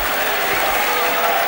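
Audience applauding at a robot tracker (line-following) competition final, a steady continuous wash of clapping from a crowd that holds evenly for the whole moment without letting up.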